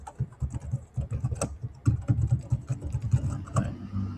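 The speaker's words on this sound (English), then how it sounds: "I'll type some notes here." Rapid, uneven typing on a computer keyboard while entering slide notes in PowerPoint, a dense run of close key clicks throughout with no talk.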